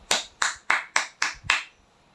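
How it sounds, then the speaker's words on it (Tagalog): Six sharp hand claps in an even, quick rhythm, close and crisp, each with a brief decay, then silence. "Wow, palakpak naman yan."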